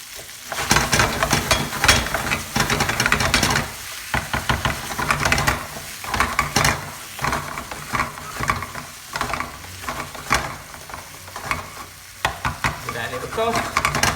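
Potatoes and sauce fry in a pan while a spatula stirs vigorously, producing loud, dense scraping and knocking against the metal in bursts with short pauses, over a continuous sizzle.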